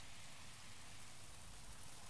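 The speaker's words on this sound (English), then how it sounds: "Unless it's just always raining in here?" Steady rain falls in Breath of the Wild, a soft continuous hiss of drops on the ground that stays even and fairly faint throughout, with no voices.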